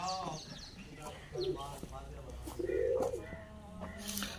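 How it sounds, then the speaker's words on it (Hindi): Pet pigeons kept in cages coo softly in low, rolling bursts, with other bird calls scattered around them and someone speaking over them. "ये देखें जी इन्होंने कबूतर भी रखे हैं माशाल्लाह"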